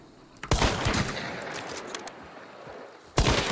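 A video game gunfight erupts into a loud, dense volley of rapid gunfire that rattles on for several seconds, drops back, then bursts out again at the end.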